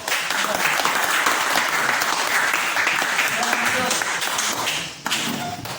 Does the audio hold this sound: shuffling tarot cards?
no